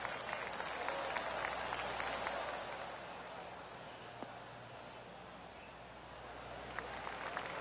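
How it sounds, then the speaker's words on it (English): Steady golf crowd applause from a sizeable outdoor gallery at the Players Championship, TPC Sawgrass, broad and sustained for several seconds before easing slightly, with a few louder claps standing out. "Oh, golf clap."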